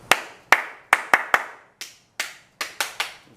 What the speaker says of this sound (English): When I need everyone's attention, I'll do a special clap.